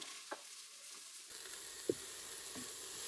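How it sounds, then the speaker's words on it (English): Vegetables dropped into a hot pot begin to sizzle, a soft steady hiss swelling in after a second, with a few light clinks and a scrape of stirring. "You can hear them starting to sizzle."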